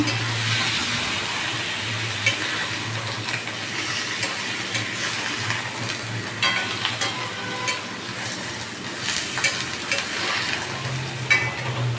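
Chicken frying in a pan while being stirred: a continuous sizzle with a low hum underneath, and irregular scrapes and clinks of the spoon against the pan, with no talking.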